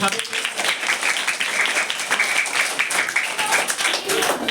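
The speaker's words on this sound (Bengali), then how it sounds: "হাততালি দেই" A group of people clap their hands together, lively uneven applause close by with voices talking through it.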